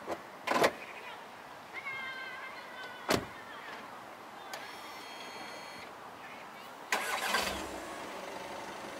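A car's engine turns over and starts in a quiet setting before driving off with a trailer, with clicks, thumps and a whirring motor between, a short burst of the engine at the end.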